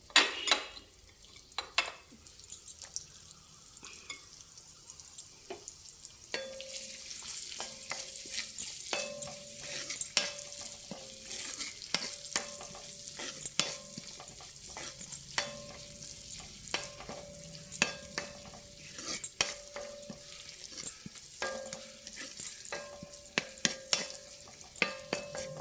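Onions fry in a pan while being stirred, a continuous close sizzle broken by frequent scraping and clinking spoon strokes against the pan.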